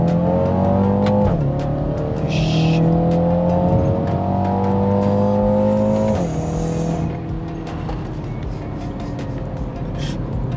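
A BMW X2 M35i's 2-liter engine revs hard in sport mode, climbing in pitch then dropping sharply at each quick downshift, loud and close, before settling into a lower, steadier drone.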